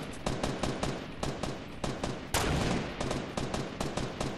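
Rapid automatic gunfire in Fortnite during a squad match, a loud, close, rhythmic stream of shots with a brief denser burst midway, heard alone without talk.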